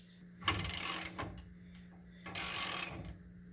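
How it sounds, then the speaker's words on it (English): Harbor Freight tie rod puller being adjusted on a 1987-91 Ford F-150, with two short bursts of quick metallic ratcheting clicks, close up, separated by a quiet gap with a faint hum underneath. "Using my Harbor Freight tie rod puller, I can adjust the distance on it so it'll reach."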